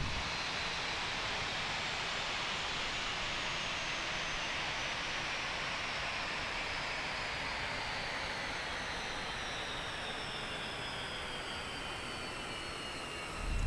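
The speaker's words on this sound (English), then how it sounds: "And then we turn engines 1 and 2 off." Airliner engines 1 and 2 spool down in Microsoft Flight Simulator, a steady broadband jet whine and rush with a slowly falling high tone, sustained throughout and heard without talk.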